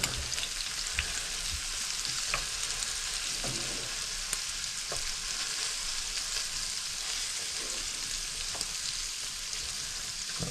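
Chilli ingredients and garlic fry in a pan with a dense, continuous sizzle, occasional scrapes and pops as they are pushed to one side, no voices.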